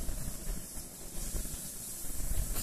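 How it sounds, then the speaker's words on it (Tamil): Mutton chukka pepper fry sizzles on a hot griddle (kal), a steady close hiss of frying meat filling the whole stretch with no one talking. "நம்ம எடுத்து வச்ச மட்டன் சுக்காவை வந்து கல்லில் போட்டு கொஞ்சம் லேசாக சூடு பண்ணி ஃப்ரை பண்ணிக்கலாம்"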